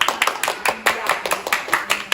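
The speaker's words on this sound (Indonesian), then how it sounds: "Tepuk tangan." Classroom of primary school children clapping in a quick, regular rhythmic pattern, loud and close, about a dozen sharp claps over two seconds.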